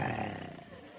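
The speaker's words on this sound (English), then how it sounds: "the air was rent by the roar of a lion" A single deep, rumbling lion roar, loud and close, fading gradually over about a second.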